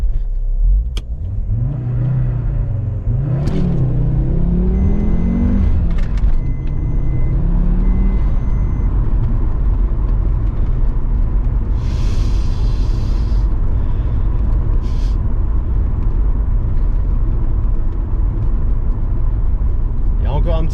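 An Audi S6 engine runs after an exhaust repair, a loud steady idle with a couple of rising revs early on, then a constant rumble through to the end, with a voice speaking briefly.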